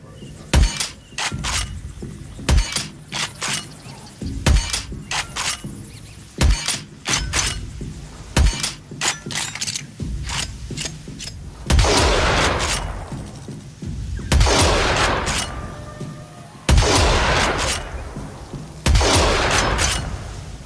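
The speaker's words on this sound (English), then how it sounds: "they also hit us up with the sounds of the upcoming Tenno Pump shotgun" Tenno Pump shotgun sound effects from Warframe: a series of loud, sharp blasts with pump-action clatter between them, spaced a few seconds apart, with the later shots growing fuller and more layered with longer ringing tails.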